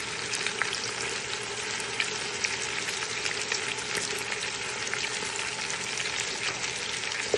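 Steady, dense sizzle of tomato paste frying in a pot for Filipino-style kabsa, with faint stirring scrapes scattered through and no talking.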